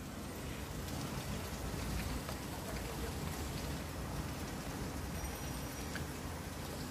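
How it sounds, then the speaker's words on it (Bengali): Rain falls outside a closed window, heard from indoors as a soft, steady patter and hiss that holds evenly throughout at low volume. "এই যে বাইরে বৃষ্টি, আমি জানালা অফ করে রাখছি"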